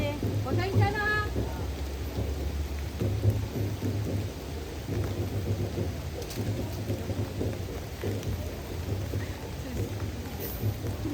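Heavy rain falling in a forest clearing during a thunderstorm, a dense steady hiss with low rumbling, with voices talking briefly near the start.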